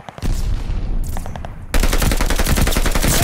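Heavy automatic gunfire at the hardpoint in Call of Duty: Vanguard multiplayer, loud and close, with a few scattered shots first and then sustained rapid fire that fills the second half.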